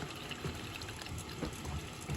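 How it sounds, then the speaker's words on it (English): Water pours down out of a plumbing return pipe near a toilet in a steady, close gushing flow, with no talk over it. "water's coming down out the return now."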